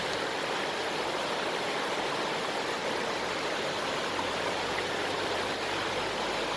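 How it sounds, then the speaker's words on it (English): Water rushes down a small creek near a waterfall beside a bike path, a dense, steady, close-up hiss and roar with no pauses. "look at the power of that water just rushing down this little creek right here."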